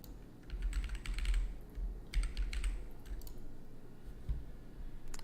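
Left-handed typing on a computer keyboard during an EVE Online session, with uneven bursts of close key clicks separated by short pauses.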